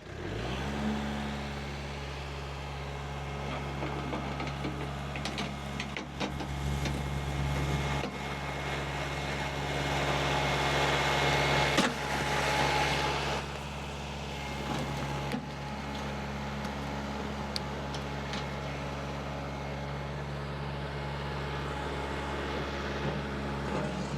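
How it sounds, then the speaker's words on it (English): A farm tractor engine running steadily, a deep, constant low rumble with a persistent hum, joined by scattered clunks and rattles and some louder stretches as the engine works. "Glad we had the tractor, not the skid steer."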